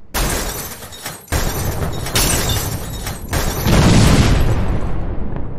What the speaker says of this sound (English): Wow! There is an explosion.